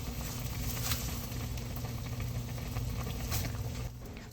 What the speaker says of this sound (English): once it comes to a boil, that's going to cook for about 1 hour